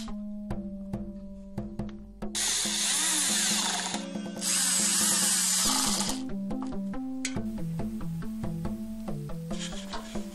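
A power drill drives screws into a wooden speaker box, its motor whining in loud pulsing bursts that rise in pitch, with clicking and stepping tones between bursts.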